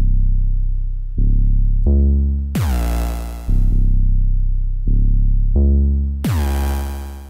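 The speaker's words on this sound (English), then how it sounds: "Sounds like this playing with the Meds 808." Deep 808 bass notes from a Thayer Period drum kit layered with a Meds 808 play a loud melodic pattern, each long booming note sliding and decaying, with brighter punchy hits marking the start of phrases, no talking.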